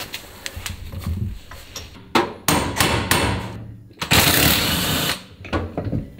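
Sharp hammer blows ring out against metal while a Porsche drive shaft is knocked loose, several separate strikes in an irregular rhythm, close and loud, with short pauses between the hits.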